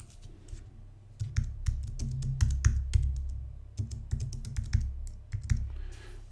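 Computer keyboard keys clatter in quick irregular bursts as a file name is typed while saving an image in Photoshop, close and clear with short pauses between runs of keystrokes.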